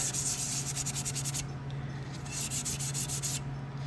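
A Scotch-Brite pad scrubs the metal of a car's fresh air vent door around its spot welds, giving a steady close abrasive rubbing in quick repeated strokes, with a low constant hum beneath.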